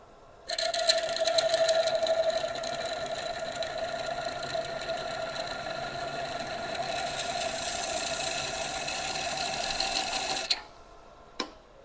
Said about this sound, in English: So I'm going to come in here at 360 RPM. I've got the tool firm on the rest and it's just slightly angled